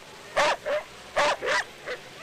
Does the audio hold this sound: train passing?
no